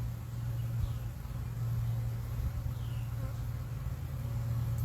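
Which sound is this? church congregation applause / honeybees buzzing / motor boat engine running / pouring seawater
honeybees buzzing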